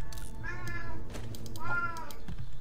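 A pet cat meows twice, two drawn-out tonal cries about a second apart, clear and fairly close over a low background rumble from a game.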